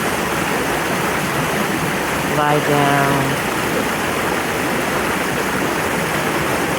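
Waterfall pouring in a steady, loud rush of water throughout, with a calm voice speaking briefly over it partway through.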